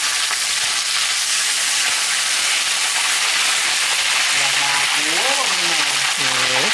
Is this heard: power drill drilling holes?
no